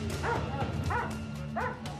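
A police dog barking in repeated sharp, yelping bursts, three clear barks about two-thirds of a second apart, close and loud over a steady background rumble of a street scene.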